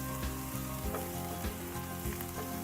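Garlic frying in a pan on medium-high heat, a dense close sizzle and crackle with a few soft stirring taps, steady and loud throughout.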